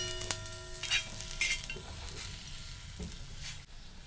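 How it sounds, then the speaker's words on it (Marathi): Sweet potato slices fry in ghee on an iron tawa with a soft sizzle, broken by light metallic clinks and scraping of a utensil against the pan. "तर बघा ही छान असे काप पटकन भाजले जाते तव्यात"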